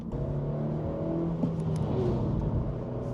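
Engine of a 2025 Honda Civic Si or Hyundai Elantra N-Line pulling harder under acceleration, a steady rising hum heard from inside the cabin without talk.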